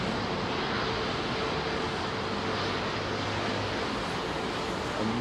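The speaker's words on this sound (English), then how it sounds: "Watch this thing climb." An airliner climbs out after takeoff from runway 27R at London Heathrow, its engines producing a loud, steady broadband roar heard close by without a break.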